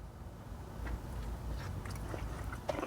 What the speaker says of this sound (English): It's a pretty thick bite, actually.